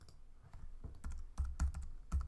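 Typing on a computer keyboard while putting text on an instructions screen: a quick run of soft, uneven key clicks and taps at close range, with no voices.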